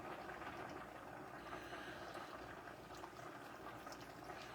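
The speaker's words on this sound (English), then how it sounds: "So now we're going to add in our broth" Homemade vegetable broth with carrot chunks and seasonings streams into bread stuffing, a soft, steady liquid gush and bubbling, faint and unbroken, with no voices.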